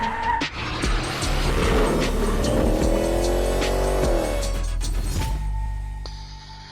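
A budget BMW 7 Series with its motor just reinstalled and budget downpipes fitted revs hard at close range, the engine note rising and falling in loud sustained sweeps before settling back down.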